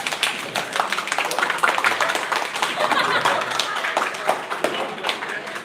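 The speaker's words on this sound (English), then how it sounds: "thank you for the applause" Applause from an audience at a holiday livestream event, continuous moderately loud clapping with some taps and a bit of talk mixed in.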